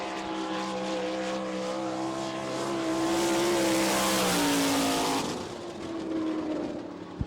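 A sprint car with a Westmar Racing engine screams around a dirt track on a qualifying lap at Barberville, Florida, its high engine note rising to a loud peak as it passes, then fading and building again.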